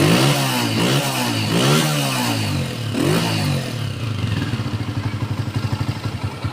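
Honda CG125 motorcycle engine revving loud and close, rising and falling several times before it settles into a rapid, chugging idle.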